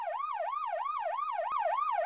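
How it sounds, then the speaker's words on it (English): A wailing siren rises and falls in a fast, steady cycle, loud and continuous, with no voices. "Anyone else hear sirens?"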